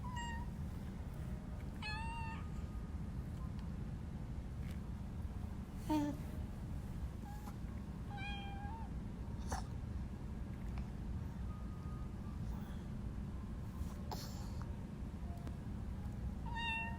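A cat meows several times at intervals, short high mews spread across the clip, fairly close but soft over a steady low room hum, with no talk.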